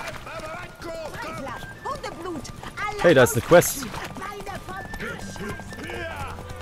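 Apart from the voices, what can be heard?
horse galloping during horse race in video game The Witcher 3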